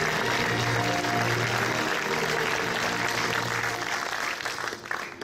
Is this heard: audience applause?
yes